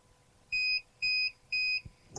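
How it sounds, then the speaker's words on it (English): Three clear, high electronic beeps of equal length from an SMA Sunny Island inverter, evenly spaced, followed by a couple of faint clicks in a quiet room. "until you get the 3 beeps."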